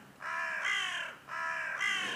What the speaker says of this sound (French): Il y eut juste un corbeau pour troubler l'épais silence qui s'installa quelques secondes.